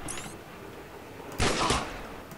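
Sniper rifle gunfire in a shooting video game comes as a sudden loud burst of sharp shots after a quiet stretch, ringing out close and alone, with another shot starting right at the end.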